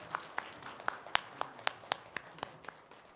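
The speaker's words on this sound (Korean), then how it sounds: "하나님께 영광의 박수 올려드릴까요?" Scattered, sparse hand claps in a Korean church service, a dozen or so distinct sharp claps at uneven intervals, fairly quiet and roomy rather than a full ovation.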